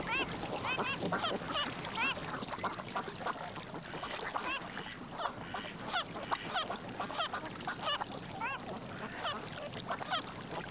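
Ducks quack drowsily among gathering migrant birds at a wetland, a soft, continuous flock chorus heard from a distance with other scattered bird calls mixed in.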